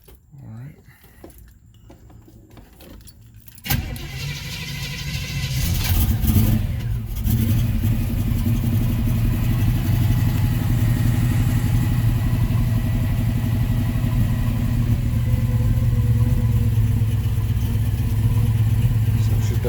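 A 1969 Chevrolet Camaro engine cranks and fires after a few quiet seconds, then settles into a steady, loud idle that runs without a break to the end, up close.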